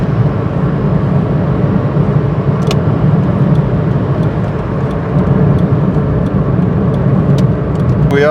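A steady, loud engine and road roar from inside a small car accelerating toward 60 mph on a dual carriageway in southern England, with occasional faint clicks and rattles.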